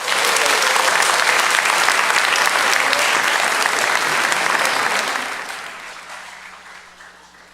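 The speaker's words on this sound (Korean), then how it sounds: "여러분 우리와 같은 박수를 치셔야 됩니다." A church congregation at a Sunday morning service claps loudly and steadily in celebration, the dense applause holding for about five seconds before fading out to near silence.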